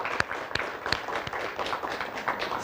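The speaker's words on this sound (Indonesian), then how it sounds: "Kita kasih tepuk tangan dulu." Audience applause for contestants at a school quiz competition in Palu, a dense, steady crackle of many hands clapping together, moderately loud and continuous with scattered sharper claps standing out.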